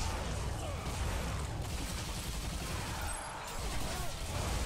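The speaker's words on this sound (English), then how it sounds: "Ow, who's shooting at me?" Dense, continuous gunfire from the shooter game Bulletstorm, a loud, busy wash of overlapping shots and crashes filling the whole stretch, with voices occasionally talking over it.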